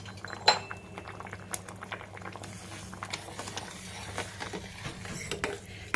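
Coriander chili powder being stirred into a simmering mango stew, with a utensil clinking and scraping against the pot over a low, steady bubbling, close and fairly quiet.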